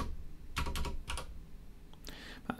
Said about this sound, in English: So we want to type in something.